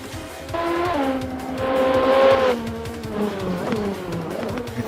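Race cars in Gran Turismo scream past while finishing laps at Bathurst or Macau, high buzzing engine notes rising and falling as they pass close by, with no talk over them.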